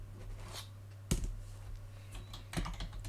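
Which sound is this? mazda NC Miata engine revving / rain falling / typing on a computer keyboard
typing on a computer keyboard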